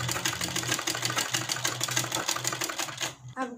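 A sewing machine stitches kurti fabric in a fast, steady rattling run, loud and close, then stops abruptly near the end.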